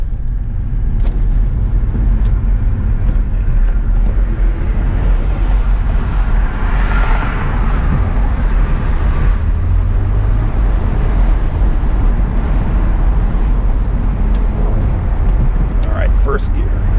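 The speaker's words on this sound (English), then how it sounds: "we'll get a little VTEC pull in a tunnel here" A 2007 Honda Accord six-speed sedan engine revs and pulls hard under VTEC acceleration, a loud continuous roar echoing in a tunnel with steady road noise.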